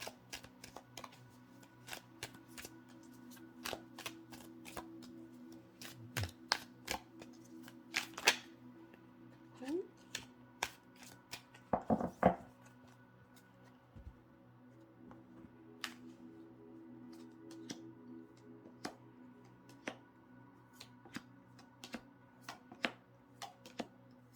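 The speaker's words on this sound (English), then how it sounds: "So let's pull a few more cards for you." Tarot cards are shuffled and handled during a Libra tarot reading, giving faint, scattered riffling ticks and soft taps over a quiet background with no talking.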